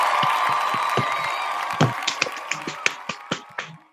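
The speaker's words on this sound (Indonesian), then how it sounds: "beri tepuk tangan untuk United Kingdom" Scattered audience clapping for the United Kingdom team at a head-to-head competition session, a handful of separate sharp claps that thin out and fade over a low steady tonal hum.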